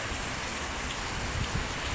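A storm brings rain and wind. The rain pours in a steady, dense hiss, with no voices heard.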